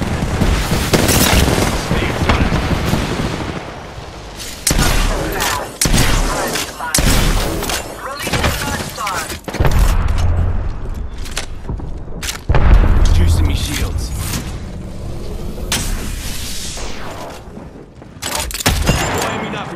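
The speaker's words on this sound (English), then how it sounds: "Stand back. Knuckle cluster's firing." Fuse's Knuckle Cluster launcher in Apex Legends firing a volley of explosives, loud booming bursts that come in quick clustered blasts with rumbling thuds, close and heavy, with brief in-game voice lines mixed in.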